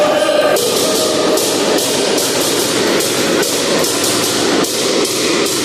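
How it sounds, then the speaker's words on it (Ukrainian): A fan beating a drum at an indoor volleyball match, loud steady rhythmic thumps repeating about twice per second over crowd noise. "А Володя Думик працює зі своїм барабаном."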